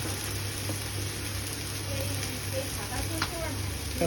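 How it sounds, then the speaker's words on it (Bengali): Goat mutton sautéing in a pan with garlic paste gives a steady, moderate sizzle and crackle, with a few soft stirring scrapes and faint background voices. "ধুমধামে কষানো চলছে মটন রান্না হবে"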